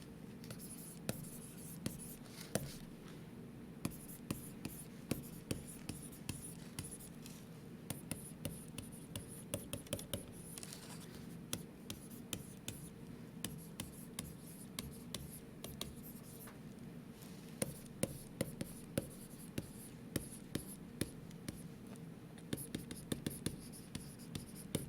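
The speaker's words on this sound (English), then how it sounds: "let's make sure that we write this down" A pen scratches steadily across paper while noting a titration burette reading to two decimal places in a chemistry lesson, continuous close writing strokes with small taps, quiet and alone.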